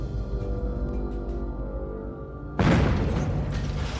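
A stage explosion during a magic trick erupts as a sudden loud, deep boom that cuts off a humming background and leaves a broad, rumbling wash that slowly fades.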